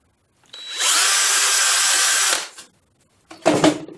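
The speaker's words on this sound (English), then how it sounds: "tap it with a hammer and then drill the hole." A power drill whines steadily for a couple of seconds as it bores a pilot hole into wood, then stops; a brief handling clatter follows.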